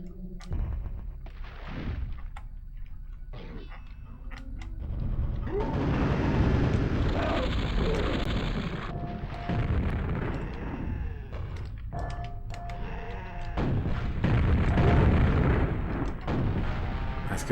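Grenades in Quake on the N64 go off as a dense run of booming blasts and crackling gunfire, loud and continuous with heavy low rumbles, and a voice speaks over the game sounds.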